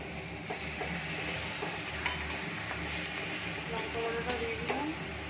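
Chicken being sautéed with chili paste in a pan gives off a steady sizzle with scraping stir strokes and light clicks throughout, moderately loud and close, with no talking.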